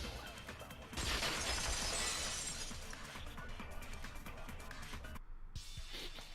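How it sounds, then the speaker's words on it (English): Glass shatters in Super Danganronpa 2, a sudden bright crash that spills into a long, dense spray of tinkling shards, fairly quiet overall, cut off by a brief gap before the debris noise resumes. "the girls heard the sound of the window shattering"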